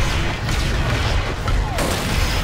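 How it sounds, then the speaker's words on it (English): Heavy supporting fire from an LA-18 gunship in Lego Star Wars: The Skywalker Saga, a continuous loud wash of booming blasts and explosions filling the whole moment without pause. "We need an LA-18 to provide supporting fire."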